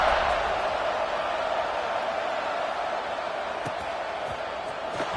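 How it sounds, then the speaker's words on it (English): Crowd buzz in an American football video game stadium, Madden or College Football, as the kickoff approaches: a steady, broad wash of distant murmuring fans, holding level and continuous throughout, with no clear cheers standing out. "this crowd is buzzing after that last score"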